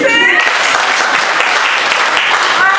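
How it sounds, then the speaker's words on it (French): Audience applause at a scholarship award ceremony for secondary-school finalists, a dense, steady wash of many hands clapping throughout, with a voice briefly heard at the start. "Applaudissez!"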